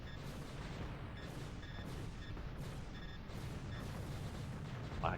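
Steady, dense rumbling barrage of shooting in Panzer Dragoon II Zwei on the Sega Saturn, with faint repeated chiming tones over it and no voices.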